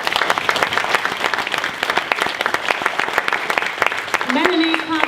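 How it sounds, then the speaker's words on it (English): Audience applause at a charity AGM special recognition awards ceremony, steady dense clapping throughout with a brief tonal sound near the end and some voices underneath. "Please give Melanie a big round of applause."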